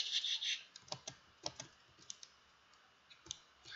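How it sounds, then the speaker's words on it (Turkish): Computer mouse clicking during a Minecraft Lucky Blocks session, with a run of sharp, close clicks scattered unevenly through a quiet room, some in quick pairs and others spaced apart. "Mouse sesi geliyor."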